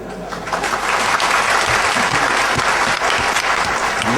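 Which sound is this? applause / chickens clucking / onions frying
applause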